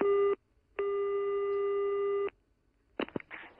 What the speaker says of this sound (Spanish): Que no cogía el teléfono, que estaba comunicando.